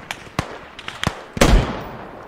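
Gunshots ring out in a squad-based military shooter game: several sharp single cracks at uneven intervals, then a louder, booming shot that leaves a lingering echo and rumble.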